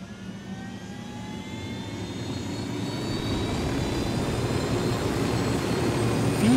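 A helicopter in the Ghost Recon Wildlands video game flies with a steady, loud engine and rotor drone that swells slightly louder over several seconds, with no voices.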